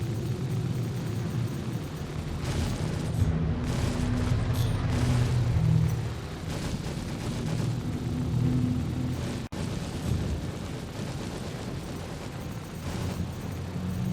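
Heavy ship weapons called rhinos fire in space combat aboard an RSI Constellation Taurus in the game Star Citizen, producing loud booming, rumbling blasts over a steady engine hum, with a sharp impact near the end.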